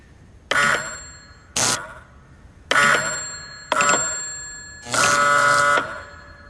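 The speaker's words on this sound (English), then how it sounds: "if I push the button on this end, it sets off the bell at the receiver" An electric bell at a wireless receiver rings in five separate bursts, each a loud metallic clang with a ringing decay, the last burst longer and sustained, with short silent gaps between.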